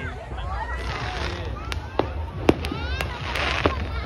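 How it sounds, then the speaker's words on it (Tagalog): New Year fireworks bursting over Karon Beach in Phuket, several sharp booms and crackles standing out against a steady wash of crowd noise and distant explosions. "Pakita ko sa inyo ang pinakabonggang fireworks dito sa beach"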